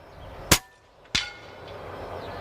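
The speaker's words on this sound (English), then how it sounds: "Now I'm going to take another shot so that you guys can actually hear." Two sharp air rifle shots fire through a Huma Air FX True Ballistic Chronograph, loud cracks about half a second apart, with no talk.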